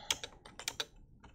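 Quick bursts of computer keyboard typing on a Linux machine, several crisp close key clicks in an uneven rhythm with brief gaps, alone without speech.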